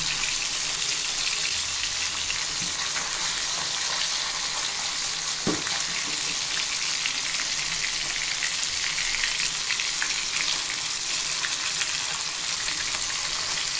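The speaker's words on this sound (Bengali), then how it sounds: "এভাবে আস্তে আস্তে উল্টিয়ে পাল্টিয়ে ভেজে নিতে হবে" Steady, close sizzle of small puti fish (pool barb) frying in hot oil, a constant crackling hiss with one brief clack of a utensil midway.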